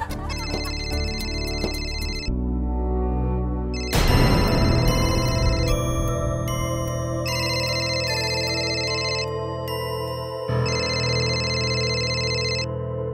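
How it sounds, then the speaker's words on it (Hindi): A mobile phone ringtone plays loudly, a bright repeating electronic melody in distinct bursts with short pauses, heard alone without talk. "फोन बज रहा है।"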